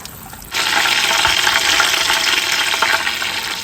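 Pumpkin is washed under running water. A loud steady gush starts suddenly after a quiet moment and keeps flowing close by, with no talking.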